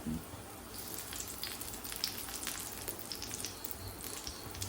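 Ghee sizzles on a dosa cooking on a pan over low gas, a soft steady crackle with scattered pops throughout.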